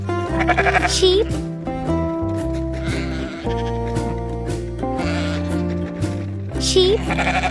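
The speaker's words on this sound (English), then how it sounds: "Sheep." A sheep bleats in two short calls, near the start and again near the end, set against steady, upbeat children's background music for a farm-animal sound lesson.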